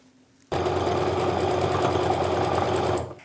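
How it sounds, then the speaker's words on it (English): A sewing machine stitches quilt pieces in one loud, steady run of rapid mechanical chatter lasting under three seconds, starting abruptly after a quiet moment and stopping cleanly. "now it's time to sew everything down the other side"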